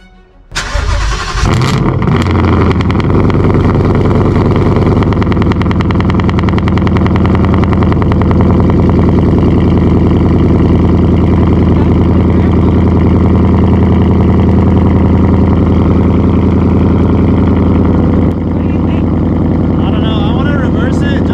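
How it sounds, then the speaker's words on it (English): A Ford Mustang engine cold-starts with a short crank and loud catch, then settles into a heavy, steady, rumbling idle that stays close and loud to the end, with voices faintly in the background. "Should check the cold start up."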